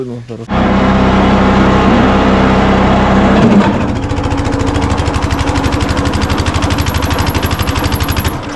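A small engine roars loud and steady under heavy load, then abruptly bogs down into a slow, uneven, pulsing chug as it struggles and dies away, jammed by wet material.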